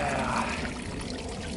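Water bubbles and churns in a pool, a soft, continuous frothy hiss and gurgle heard close by at low volume throughout.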